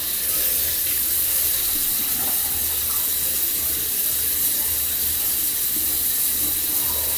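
Cold water runs steadily from a tap into a sink during washing, a continuous close hiss and splash with no breaks and no talking.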